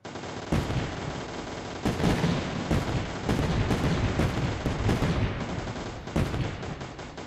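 Rapid, repeated bursts of artillery-style gunfire from a tower defense video game, loud and dense, with sharp volleys recurring every second or so over a continuous rumbling battle bed.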